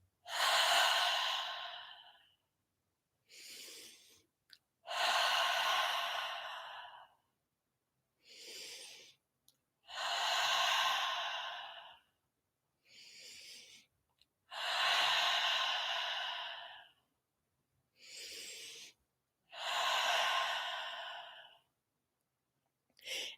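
Slow, deep breaths drawn in through the nose and released through the mouth during a guided meditation, each long breath followed by a pause, repeating in an even rhythm close to the microphone.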